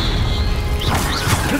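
Incendio fire spell cast in Hogwarts Legacy: a brief whooshing, crackling burst of flame with rising swishes and a dull thump, heard alone over game background noise.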